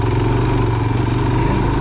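A Suzuki DR-Z motorcycle engine lugs at low revs on a trail, a steady close thumping drone holding even throughout with no talk.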